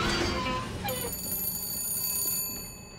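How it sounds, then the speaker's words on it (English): Telephone ringing in the Bioshock Infinite video game, a bright electronic bell tone with steady high harmonics sustained for a few seconds over faint game ambience, clear and fairly close. "And there we have the phone ringing again"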